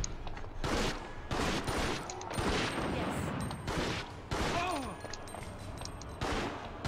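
Gunfire in Resident Evil Outbreak on PS2: repeated loud bursts of shots come in rapid clusters over a noisy game background, with brief gaps between volleys.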